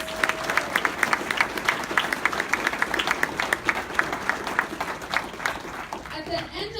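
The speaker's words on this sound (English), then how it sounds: "Let's give them one more round of applause." An audience at an award ceremony gives the winners a round of applause, with dense, steady clapping that holds throughout and fades slightly near the end.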